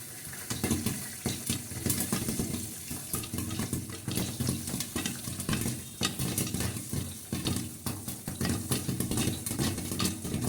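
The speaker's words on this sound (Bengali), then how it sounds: "পপকর্ন ফুটছে ফুটফাট ফুটফাট করে" Popcorn kernels burst in a pan, making dense, rapid pops and crackles close by. The popping runs steadily from start to finish over a sizzling, rattling background.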